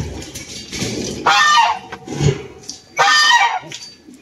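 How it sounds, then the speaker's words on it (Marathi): A duck honks loudly at close range in a farmyard with chickens nearby, giving two strong, raspy bursts separated by quieter rustling and background noise. "मी पहिल्यांदाच बघायला बदक जवळून."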